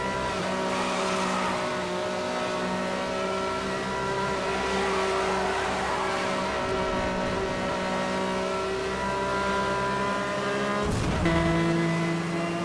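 A car engine in Need for Speed Hot Pursuit Remastered drones steadily at high revs through the whole stretch, with a brief tire squeal or shift near the end.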